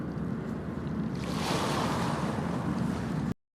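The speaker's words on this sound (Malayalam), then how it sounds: "അപ്പോൾ ഇതേപോലെ തിരയൊക്കെ ഉള്ള ബീച്ചാണ്." Ocean waves break on a beach in a broad, steady wash mixed with wind rumble, swelling louder partway through before cutting off abruptly, with no voices.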